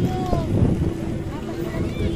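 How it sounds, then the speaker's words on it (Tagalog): Wind buffets the microphone with a constant low rumble, while people talk faintly underneath. "Sarap ng hangin."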